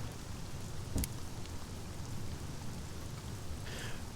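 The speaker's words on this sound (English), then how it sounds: "The falling waters are continual thunder." Continuous broadband roar of a thundering waterfall in the video game Sunless Skies, a dense, steady wash of falling water heard close and unbroken, with a couple of faint brief ticks over it.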